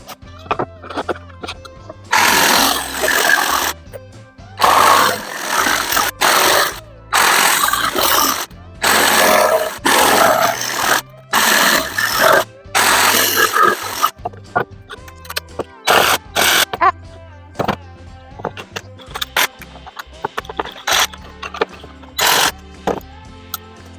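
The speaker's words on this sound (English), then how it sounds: "I'm back with my jigsaw. So what we're going to be doing is we're going to be cutting out these slats." Jigsaw cutting out wooden slats in bursts: loud buzzing saw runs of a second or two separated by short pauses, repeated throughout, with no talk.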